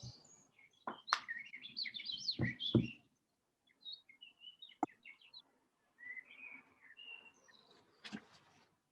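A bird chirps and tweets in short bursts of high, quick notes separated by brief silences, fairly faint with a few sharp clicks between calls.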